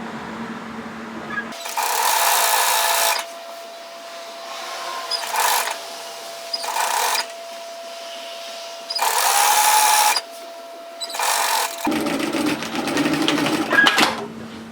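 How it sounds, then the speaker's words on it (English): An overlocker serges the raw edge of a sewn garment in several short, loud bursts of fast mechanical whirring, separated by pauses, with a longer, steadier run at the end. "So go ahead and overlock secure that raw edge"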